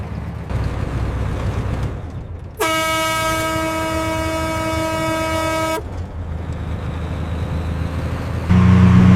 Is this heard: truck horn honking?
yes